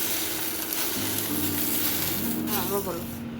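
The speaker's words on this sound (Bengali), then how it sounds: "ধুয়ে নিয়ে আমি সেঁকে নিচ্ছি।" A washed banana leaf toasts in a hot pan for hilsa paturi, giving a steady close sizzle and hiss, with low hum and a brief warbling tone near the end.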